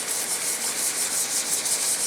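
Steady, close rubbing of fine 220 grit sandpaper worked wet over a wooden hollow turned piece, a continuous soft hiss with gentle periodic strokes and no talk.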